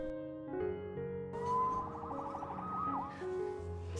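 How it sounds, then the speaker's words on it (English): A siren wails through a short warbling rise-and-fall sweep, moderately loud, set against a backdrop of sustained musical tones. "Saved by the siren."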